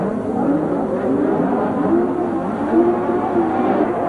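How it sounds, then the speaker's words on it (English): Several 1983 Formula One race cars accelerate at a race start, a loud dense roar of high-revving engines sustained throughout, with tires squealing among them. "Green light, and Piquet makes a superb start"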